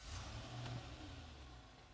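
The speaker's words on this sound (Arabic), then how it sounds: "خلونا نشغل السيارة" A 2014 Infiniti QX80 engine starts and settles, with a brief rising rev up front followed by a steady low engine hum, close and fairly quiet, with no talking.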